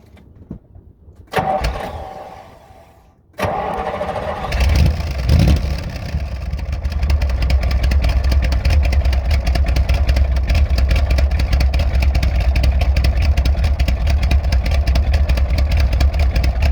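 A 1968 Chevrolet Corvette coupe with a 383 stroker engine cranks after a few quiet clicks, catches with a loud burst, then settles into a heavy, steady, close rumbling idle.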